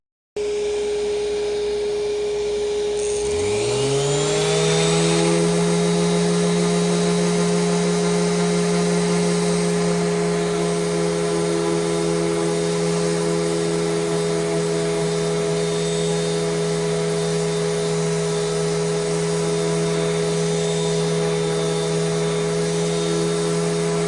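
A power sander with 400 grit working over charred wood on a farm table bench starts up after a few seconds of quiet, then whines loudly and steadily with a constant tonal hum, close and alone.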